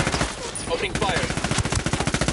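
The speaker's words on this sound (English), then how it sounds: "Opening fire." Rapid automatic gunfire in the Ghost Recon Wildlands video game, a fast rhythmic burst of shots that builds and continues steadily, loud and close, with faint game voices underneath.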